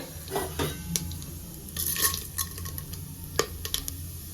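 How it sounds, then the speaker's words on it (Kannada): Mustard seeds, cumin, urad dal and chana dal tempering in hot oil in a home kitchen, giving scattered crackles and pops with a few sharper spits and stirring noises, moderately quiet and without talk. "ಸೊ ಸಾಸಿವೆ ಎಲ್ಲ ಒಂಚೂರು ಚಟಪಟ ಅನ್ನಲಿ, ಹಾಗೂ ಬೇಳೆ ಎಲ್ಲ ಬೇಯಲಿ"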